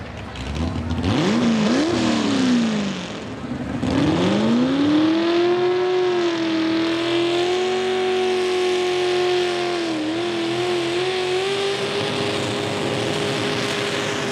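Big block Ford-powered pulling tractor launching off the starting line at a tractor pull, a loud engine howl that dips, then surges and climbs into a sustained high-revving roar, with no talk over it.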